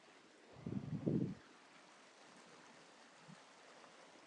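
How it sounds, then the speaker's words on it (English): A stream flows through snow-covered Trentham Gardens as a faint, steady wash of water. A brief, louder low rumble of handling or wind noise rises near the start. "It's a nice sound of water for a second."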